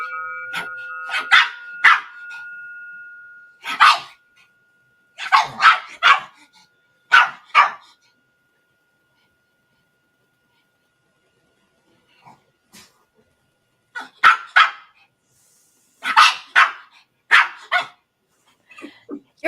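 A dog barks in loud, close bursts of several sharp barks, with a long quiet pause in the middle before more clusters of barking resume.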